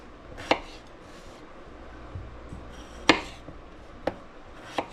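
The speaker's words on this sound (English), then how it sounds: "Now this is a little bit smaller potato, so cut this one in half." A knife chops through potatoes on a cutting board, four sharp distinct knocks spaced unevenly over a quiet kitchen background.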